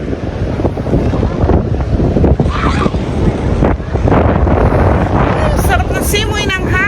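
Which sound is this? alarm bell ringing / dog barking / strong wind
strong wind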